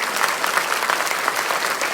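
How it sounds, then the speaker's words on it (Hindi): Sustained applause at the CSS Day 2023 ceremony at Ambedkar International Centre, New Delhi: a dense, steady roar of many hands clapping at once, loud and even throughout with no voices standing out. "बहुत बहुत तालियां रुकनी नहीं चाहिए"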